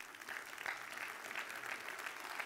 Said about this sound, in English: please give him one more round of applause